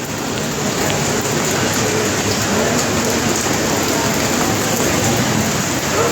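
Heavy rain falls over a Dhaka street during a city downpour, a loud, steady hiss of drops on the surfaces nearby that continues without a break.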